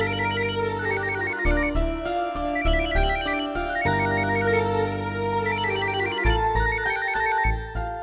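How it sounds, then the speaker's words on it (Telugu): A mobile phone ringtone rings unanswered, a bright repeating melodic tune that plays continuously and clearly with no voices. "రింగ్ అవుతుంది కానీ రెస్పాన్స్ లేదు"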